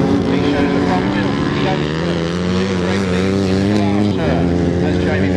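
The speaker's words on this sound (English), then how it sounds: "Jamie Pantry cracks the throttle on, finds a nasty bump" Grasstrack racing motorcycle engines rev loud and continuous at close range, a dense roaring drone with shifting pitch that stays unbroken throughout.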